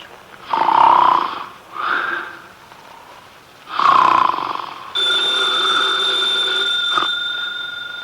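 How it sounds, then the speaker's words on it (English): A heavyset man snores in an old-time radio drama, giving two loud, drawn-out nasal snores with a quieter breath between them. A steady ringing telephone then takes over and continues to the end. "His eyes are closed, and he's making sounds through his nose."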